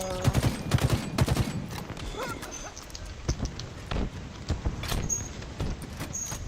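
Needler weapon firing in Halo Infinite, rapid bursts of sharp crackling shots in dense clusters with chaotic multiplayer combat noise throughout, loud and close.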